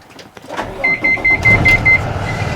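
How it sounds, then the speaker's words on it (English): A school bus engine cranking and starting during a pre-trip inspection, with a rising mechanical whir and rhythmic starter pulses up close, followed by the engine catching and running. "I'm going to start the bus, and I want to listen for a governor cutout"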